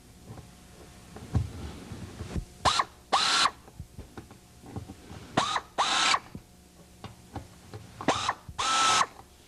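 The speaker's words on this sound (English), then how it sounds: "So we're going to go ahead and countersink the top side of the 606." A power drill fitted with a countersink cutter bites into a pre-punched aluminium aircraft tail part for a Van's RV-6, in repeated short whirring bursts with clicks and handling noise between them, close and without speech.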